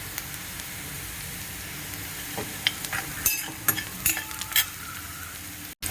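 Ground masala paste with salt and turmeric being sautéed into translucent onions for Gavran-style mutton kharda, a steady soft sizzle with scattered scraping stir clicks and spatula taps, close and unaccompanied by talk.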